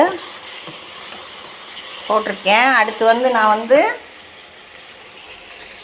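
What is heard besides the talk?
tomatoes frying in pan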